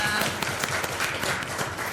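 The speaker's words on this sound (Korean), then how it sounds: "주님께 감사와 영광의 박수 올려드립니다" Congregation applauding during a Sunday morning church service, a brief burst of many hands clapping together at moderate volume.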